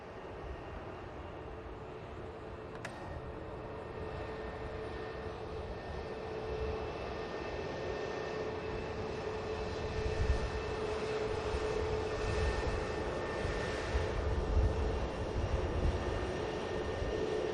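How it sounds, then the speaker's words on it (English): An EasyJet airliner on final approach to land at Manchester Airport, a broad steady jet roar that swells gradually over the span, heard at a distance with no voices. "EasyJet now just coming on to finals."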